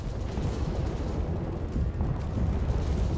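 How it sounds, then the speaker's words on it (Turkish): Artillery fire rumbling through a battle scene of the Gallipoli campaign at Kerevizdere, heard as a steady dense roar of low booms and distant blasts with no talk. "Yoğun topçu ateşi altında ilk siperlerde savaş şiddetliydi."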